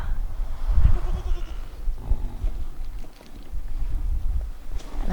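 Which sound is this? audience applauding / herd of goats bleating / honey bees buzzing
herd of goats bleating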